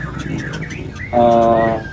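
An orange-headed thrush sings at a bird contest, a loud close run of varied whistled notes ending in a rich warbled phrase, with crowd murmur behind.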